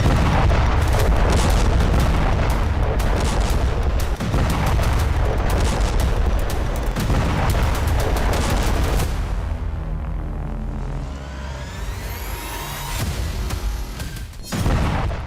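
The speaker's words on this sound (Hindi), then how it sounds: "ये धमाके भले छोटे दिखें" A dense barrage of booming explosions and blasts, loud and continuous, thinning out toward the end with a few scattered bursts.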